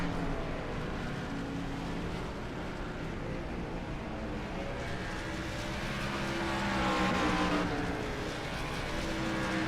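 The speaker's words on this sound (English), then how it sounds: "Sonny Thompson coming into the pits. Let's see here, he's got a real good race going. He needs a good pit stop to get back out of there." A steady, loud roar of race car engines fills the air at Lucas Oil Raceway during a short-track national tour event, with cars running close by as they come into the pits.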